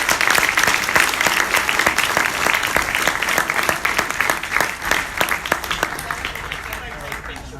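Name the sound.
audience applause for finalists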